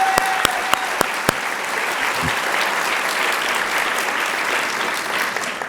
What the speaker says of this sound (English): let's give them a big round of applause to show our appreciation